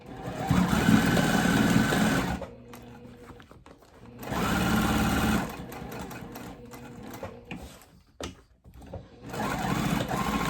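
A sewing machine runs stay stitches along both sections of an L-shaped seam on a backpack pocket, in three bursts of steady mechanical whirring separated by short quiet pauses.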